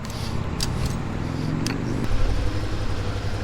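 A motorcycle engine hums steadily and close by as the rider pulls away from a gas stop, with a slight rise in revs partway through and a few faint clicks on top.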